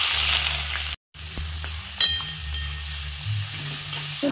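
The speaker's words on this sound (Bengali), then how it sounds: "এবার এতে আমি পেঁয়াজগুলিকে দিয়ে দেব।" Onions hiss in hot oil seasoned with dried red chilli, cumin and a bay leaf, a close, lively sizzle with stirring scrapes, broken by a brief silent cut before the frying resumes.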